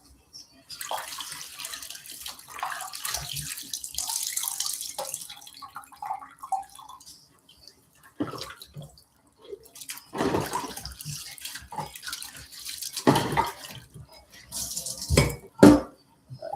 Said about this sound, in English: got this pot to wash